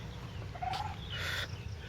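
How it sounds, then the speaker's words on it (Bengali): A bird calls outdoors in a quiet countryside setting near a brick kiln, with a short warbling call and a brighter chirping call over steady low background noise. "আর এদিকে পাখির ডাক"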